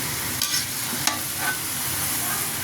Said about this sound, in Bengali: এভাবে প্রায় 5-7 মিনিট শাকটা নেড়ে চেড়ে ভাজা ভাজা করে নিয়েছি